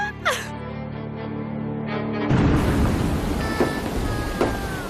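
Rain pours heavily with a rumble of thunder breaking in, after a brief gasp-like voice at the start; the downpour grows louder and fills the space.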